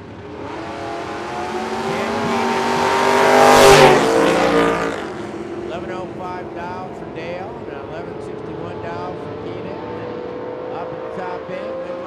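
A 1968 Dodge Dart drag car with a 512 cubic inch engine launches and roars past at a drag strip, its engine rising to a loud peak then fading to a steady distant drone, with an announcer talking over it.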